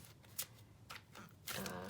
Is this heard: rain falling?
no